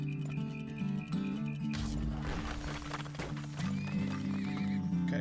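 Horses in the video game Turmoil: a loud whinny rises over steady clip-clop trotting hooves, all set against a looping music bed with rhythmic bass notes.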